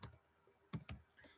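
A computer keyboard is typed on in a few quiet, separate key clicks, with short pauses between taps, in a quiet room.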